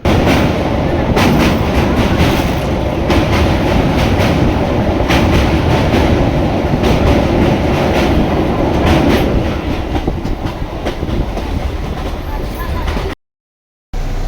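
Train running on rails, heard loud and close as a continuous rumbling roar with rhythmic clattering, cutting out briefly near the end.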